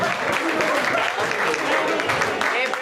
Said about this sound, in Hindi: जोरदार तालियां हो जाए रूपिंदर मैडम के लिए।